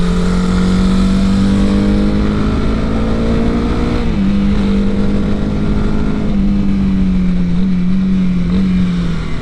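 Honda CB 300R motorcycle engine droning steadily at close range while riding, its pitch dipping and rising around gear shifts, with constant wind and road noise underneath and no talk.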